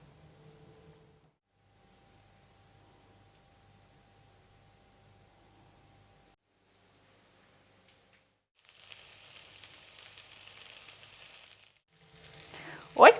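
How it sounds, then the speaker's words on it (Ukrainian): After a stretch of near silence, chopped chicken thigh cutlets begin frying in a hot pan with a steady sizzling hiss, then a brief clatter follows near the end. "Тепер обсмажуємо котлети на розігрітій сковорідці з обох боків."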